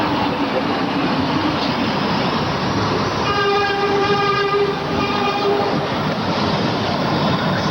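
A New York elevated W line subway train rumbles past overhead continuously with a sustained horn-like tone in the middle, steady and loud throughout.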